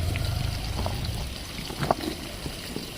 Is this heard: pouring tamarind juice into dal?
yes